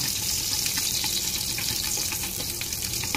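Garlic sizzling in a hot pan, a steady bright crackle and hiss that runs continuously with faint clinks, no voices.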